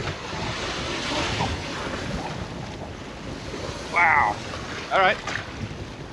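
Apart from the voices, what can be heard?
strong wind and waves on a lake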